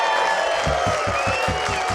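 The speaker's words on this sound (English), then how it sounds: "Big round of applause to yourselves" Festival audience at a main stage applauding after a sea shanty performance, a full continuous roar of clapping and cheering with rhythmic low thumps underneath.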